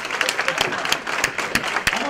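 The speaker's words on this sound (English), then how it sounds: "So as everybody in the room is standing and applauding," A conference room crowd stands and applauds, dense clapping with sharp individual claps punctuating it, while a voice speaks over the noise.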